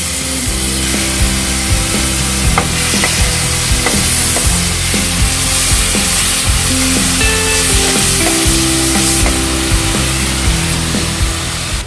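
Whole dried red chilli, broken by hand, sizzling and crackling steadily in hot oil for a Bengali hilsa tenga, with dense frying noise and scattered pops running the whole time, no talk over it.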